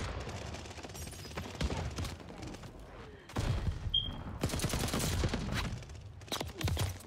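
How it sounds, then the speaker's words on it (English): Type 11 light machine gun fire in Call of Duty Vanguard, several loud rapid bursts separated by short pauses, sharp and close over a low in-game rumble. "This gun have a lot of recoil."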